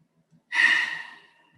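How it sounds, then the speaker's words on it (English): One long, soft exhalation, like a deep sigh, rises suddenly and fades over about a second in a quiet room, with faint murmurs before it. "let's take a deep breath together"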